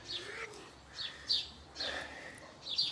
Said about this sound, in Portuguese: Tava escutando os passarinhos aqui